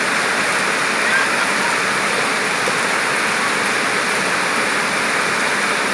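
Heavy rain pours steadily outdoors as a dense, loud, unbroken hiss that runs the whole time with no break.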